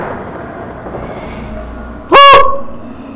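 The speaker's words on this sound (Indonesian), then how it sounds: "Ada suara, guys. Ayam kaget." A single loud, sudden squawk from a startled chicken in the horror video game Dreadout cuts through a quiet, murky ambience, sharp and brief.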